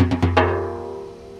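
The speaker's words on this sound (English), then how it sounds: "this five-stroke roll," A five-stroke roll on a frame drum: quick fingered taps in rapid succession, ending in a stronger accented hit, then a resonant ring that slowly fades. Close and clear, with no voices.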